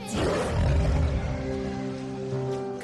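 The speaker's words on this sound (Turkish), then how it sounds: "Sonya kükremeyi duydun mu?" A cartoon panther lets out a deep, loud roar that swells and rumbles for nearly three seconds, close and alone with no talking over it.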